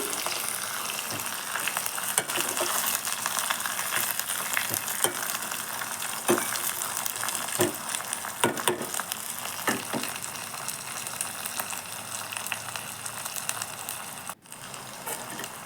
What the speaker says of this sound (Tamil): நல்லா கலந்து கொடுத்துக்கலாம் வதங்கட்டும்